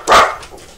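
A single sharp dog bark, loud and close, that trails off into a faint whine, with no talking over it.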